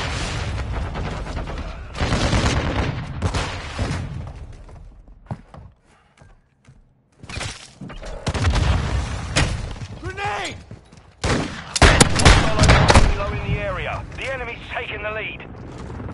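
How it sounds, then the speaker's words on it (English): Video game combat: flash and frag grenade blasts and bursts of gunfire crack and boom in loud clusters with brief lulls, mixed with voiced in-game callouts. "Throwing flash grenade."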